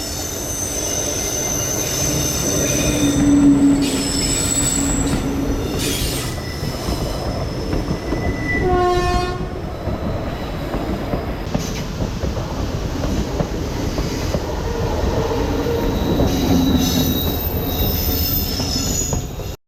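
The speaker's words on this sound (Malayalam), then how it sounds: "ദൂരെ നിന്നൊരു ട്രെയിനിൻ്റെ ഹോണടി സൗണ്ട് കേൾക്കുന്നുണ്ട്" An Indian train runs past near a waterfall on the Thenmala, Kollam line, a loud sustained rumble and squeal of wheels on track lasting throughout, with a distant horn sounding briefly midway.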